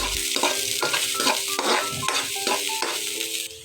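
Garlic sautéing in a frying pan for chicken tinola, stirred with a utensil in steady, repeated scrapes over a constant close sizzle.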